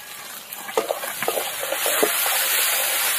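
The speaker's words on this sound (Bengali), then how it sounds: "টমেটো, পেঁয়াজ, আদা, রসুন ভালো করে একদম ভেজে নিয়েছি" Tomato, onion, ginger and garlic frying in a pan on a stove, giving a steady loud hiss with a few soft stirring knocks early on and no talk.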